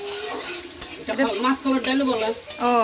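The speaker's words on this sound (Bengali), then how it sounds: "পেঁয়াজ ভাজা হচ্ছে এখন" Onion frying in a pan in a home kitchen makes a bright sizzle with scraping stir sounds, while people talk loudly over it in the foreground.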